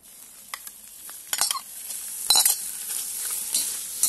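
Beef hits a hot, dry kazan over a campfire outdoors. It gives a crackling sizzle, with scattered scraping bursts as the meat is turned and a louder clatter midway.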